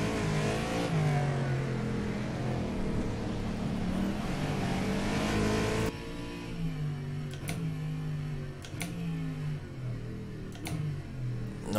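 Historic race car engines in an endurance sim racing game at Sebring, revving and shifting loudly through gears, with a few sharp transients as cars brake into corners and accelerate away.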